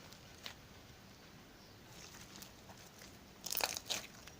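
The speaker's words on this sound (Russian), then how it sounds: "Мне кажется, он хорошо хрустит за счет его пузырьков и этих кубиков." Crunchy jelly cube slime with sponge pieces is squeezed, giving soft crackles early on and then a louder burst of crisp crunching near the end, close up over a quiet background.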